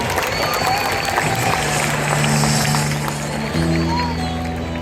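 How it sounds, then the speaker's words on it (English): At a SeaWorld killer whale show, an outdoor audience claps in a broad, steady wash of applause, with sustained musical tones entering partway through. "One more round of applause for our volunteers"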